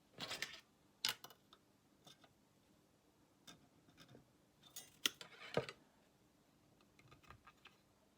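Fret wire being snipped to length in a guitar workshop, a handful of sharp, close cutting clicks spaced irregularly across a quiet room, with no talking.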